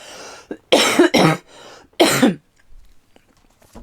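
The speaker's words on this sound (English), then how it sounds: "I'm going to have a little cough because I have dry throat" A few dry, harsh coughs come in quick close bursts, followed by quiet breathing.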